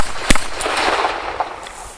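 Several .44 Special gunshots from hand-cast bullets fired outdoors on open land: one sharp, loud crack near the start followed by fainter, more distant pops and echoes, with no talking.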